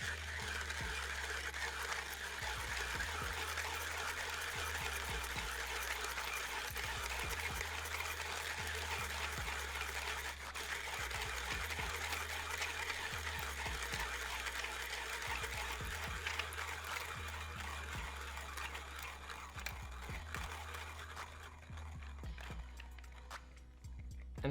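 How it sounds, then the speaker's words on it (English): A 1ZPresso J-Max hand grinder grinds 20 grams of coffee, a faint continuous crunching and rhythmic mechanical grinding that runs steadily for over twenty seconds, close and alone. "That's 20 grams of coffee ground."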